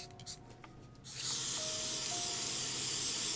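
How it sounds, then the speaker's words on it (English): A soft click and faint rustling, then a steady, close hiss of lace bond adhesive sprayed from an aerosol into a cap, continuing without break to the end. "And I want to spray the lace bond into a cap,"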